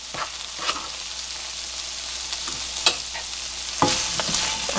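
Vegetables and braised potatoes fry in a pan with a steady soft sizzle, punctuated by several sharper clatters as a utensil stirs them.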